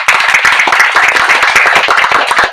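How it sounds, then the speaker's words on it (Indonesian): A crowd at a Sunday morning motorcycle ride gathering claps loudly and steadily in a dense, close burst of hand claps lasting a couple of seconds. "Tepuk tangan dulu lah."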